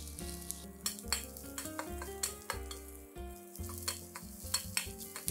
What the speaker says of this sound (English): Fry these till they are fragrant.